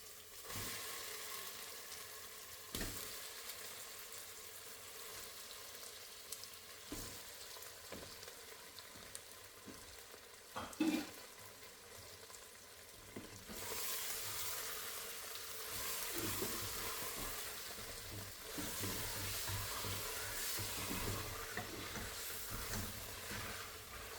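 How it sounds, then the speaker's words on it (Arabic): Chicken frying in a pot with onions, spices and tomato sauce: a continuous sizzling hiss with a few stirring clunks, growing louder and denser in the second half, with no talking. "والحين نضيف الدجاج."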